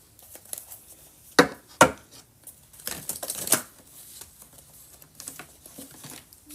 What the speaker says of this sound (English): These cards didn't want to shuffle very well.